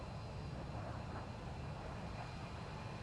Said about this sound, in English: We've also got an ASW plane coming in.